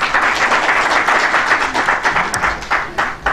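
An audience at a commemorative panel event claps steadily, a dense, even wash of applause filling the room for a few seconds without pause.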